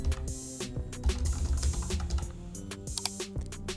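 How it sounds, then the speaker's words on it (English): Soft clicking from a computer keyboard as a new password is typed, a quiet run of close keystrokes with no talking. "so I'm going to type here"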